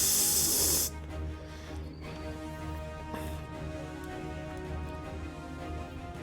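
A voice imitates the hiss of steam escaping from a pipe connector with a short, loud, sharp hissing burst at the start. Quiet room tone follows for the rest of the clip.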